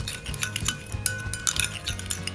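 Seasoned squid with lemon juice, salt and pepper is tossed in a bowl, producing light, irregular clinks and scrapes of a utensil against the dish at close range, with no talking.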